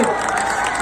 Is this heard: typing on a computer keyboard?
no